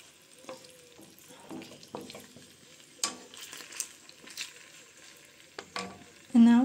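Rice frying in a pan for pilaf, just slightly cooked and not yet brown, with a soft sizzle under scattered scraping stirs and clinks, ending on a brief louder hiss.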